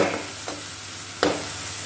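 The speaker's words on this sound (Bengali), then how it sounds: "এরপরে ভালো করে নেড়ে চেড়ে" Salted fish curry (vetki macher kalia) being stirred in a pan, with two distinct scraping strokes of the spoon over a steady soft sizzle, no voices.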